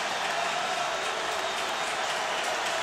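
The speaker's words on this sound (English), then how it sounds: "Now, people applauding right now are wearing green Notre Dame unis." Notre Dame fans in a stadium at a college football game against Virginia, producing steady, broad applause that holds as an even wash of clapping and crowd noise throughout, moderately loud and distant.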